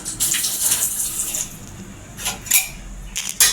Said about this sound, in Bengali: এবার আমি কড়াটা বসাবো।